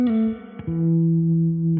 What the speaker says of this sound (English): You can swell with using the volume knob on your guitar.